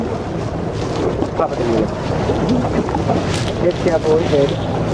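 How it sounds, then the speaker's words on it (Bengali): A speedboat ride on open water in Sri Lanka, with a steady roar of engine and water under heavy wind buffeting on the microphone; voices chatter faintly underneath throughout. "ওকে, আমরা উঠে পড়েছি স্পিড বোটে।"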